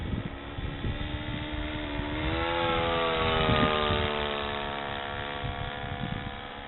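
A quarter-scale RC Corby Starlet model plane engine runs in a steady, loud buzzing drone. Its pitch climbs and then eases back as the throttle changes, with no talking.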